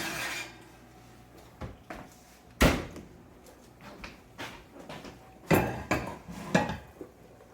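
Kitchen oven being opened to remove a tray of baked spaghetti squash, with a series of sharp knocks and clunks of door and pan at close range, two louder thuds standing out among quieter rattles.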